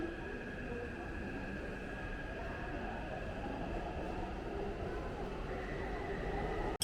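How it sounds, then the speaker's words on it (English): A Taipei metro train runs with a steady rumbling drone and a faint whine, continuous and fairly close, under a voice speaking over the ride. "The popular way to get around. Metro is super clean, cheap, and safe"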